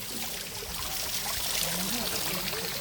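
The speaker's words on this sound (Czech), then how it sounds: "To je vodopád, malinký." Small waterfall in a woodland stream, a steady close rushing and splashing of water that runs continuously and evenly throughout.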